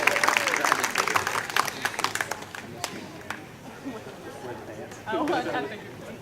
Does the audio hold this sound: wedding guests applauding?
yes